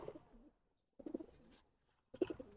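Silver pigeons give low, throaty cooing in three short bursts separated by brief pauses, fairly faint and close by with no talking.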